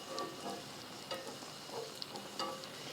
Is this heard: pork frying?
yes